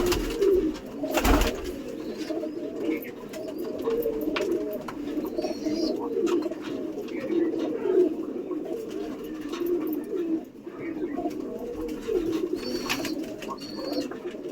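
Pigeons coo steadily in a loft, a continuous layered murmur of low, rolling calls from several birds close by, with occasional brief chirps above it.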